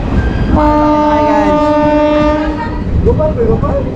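A train rumbles loudly along the tracks as its horn blares a long sustained tone, then the steady roar of the moving cars continues.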